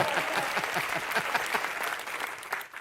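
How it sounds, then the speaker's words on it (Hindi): An indoor audience gives steady, dense applause after a fashion show is agreed on, many hands clapping together at an even level and fading slightly at the end, with no talk over it. "तालियां"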